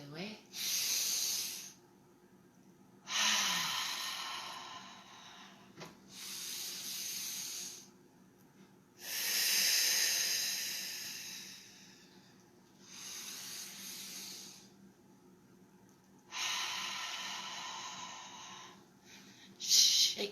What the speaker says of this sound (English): squeezing the air out on the way down, filling the lungs on the way up